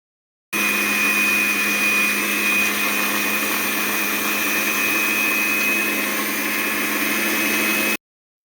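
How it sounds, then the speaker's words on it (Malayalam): An electric blender grinds grated coconut with half a cup of water into a paste for pineapple kootukari, a steady high whirring drone that starts and cuts off abruptly and runs unbroken for about seven seconds. "നമുക്കിത് നന്നായി ബ്ലെൻഡ് ചെയ്ത് എടുക്കാം."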